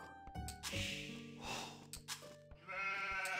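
Sheep in the strategy game Age of Empires II bleat in a quick series of short, wavering calls over a steady game soundtrack and small clicks, fairly close and clear.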